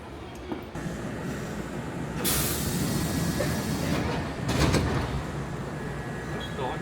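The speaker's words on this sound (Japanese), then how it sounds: "久々に乗る電車。" Rumbling train interior with steady wheel noise, a couple of loud rushing bursts, and faint squeals; a continuous ride sound.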